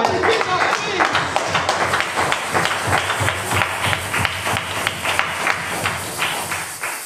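A church congregation claps and cheers in acclamation, loud dense applause with rhythmic hand claps and crowd voices mixed together, sustained throughout.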